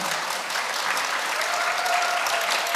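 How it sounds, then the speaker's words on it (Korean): Audience applause fills a Buddhist youth debate contest at a temple academic conference, a steady dense wash of clapping from a seated crowd that holds without pause, with no talk over it. "박수 부탁드리겠습니다."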